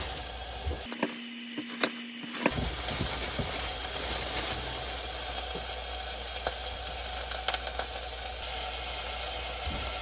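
Meat dropped into a hot pan of sautéing ingredients for doenjang stew sets off a strong, continuous sizzle and hiss after a brief quieter moment, with occasional faint clicks over the steady frying.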